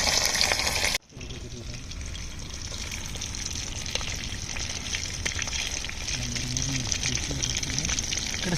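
Fish fries in very hot oil, a steady close sizzle and crackle that carries on without a break after a short cut near the start.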